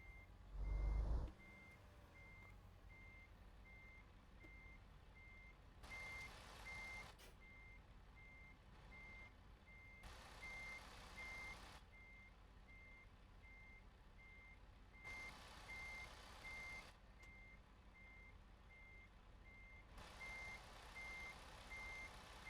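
A reversing truck in American Truck Simulator gives a steady, evenly spaced run of electronic backup beeps. Each beep is faint and high over a low engine rumble that swells in periodic surges, and there is a brief thump at the start.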